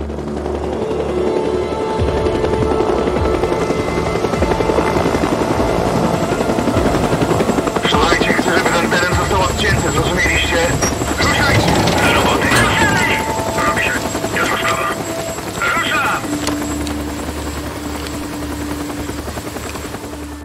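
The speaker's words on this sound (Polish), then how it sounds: "zaaferowali tym, że przeleciał śmigłowiec." A helicopter passes over in the video game Days Gone, a continuous loud rotor thrum and engine drone lasting throughout, with scattered sharper mechanical noises and brief voices mixed in.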